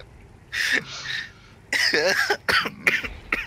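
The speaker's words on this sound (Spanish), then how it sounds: "Tose, tose, tose." Coughing bursts from a player during an online multiplayer game session, a short cough near the start followed by a louder cluster of rough, close coughs and throat noises.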